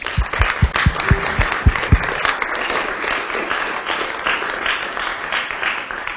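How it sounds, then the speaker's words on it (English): A crowd applauds with steady, dense clapping for several seconds, a few sharp low thumps near the start, no voices on top. "let's give a round of applause for all the coordinators"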